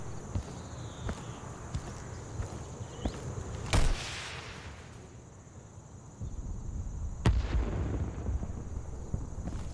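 AT4 rocket launcher in the shooter game Insurgency, fired and exploding, with two sharp loud blasts, one near 4 s followed by a long rumbling tail and another near 7 s, over a steady bed of insect-like ambient chirping.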